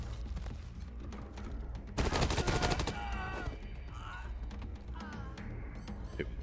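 Rapid bursts of turret gunfire in the video game Wasteland 3, a dense loud volley in the middle with scattered shots around it over a game soundtrack and effects.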